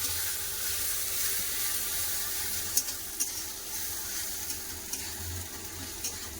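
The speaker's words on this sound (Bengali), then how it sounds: "দিয়ে দেবো পেঁয়াজ এটাকে একটু ভালো করে ভেজে নেবো" Chopped onion fries in oil with panch phoron, giving a steady, moderate hiss of sizzling and occasional light clicks of a spatula stirring in the pan.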